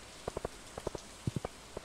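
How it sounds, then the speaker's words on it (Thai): Rain falling in the Stardew Valley video game, heard as a quiet, soft patter of scattered drops tapping at an uneven rhythm with no voices. "เป็นวันฝนตกด้วย"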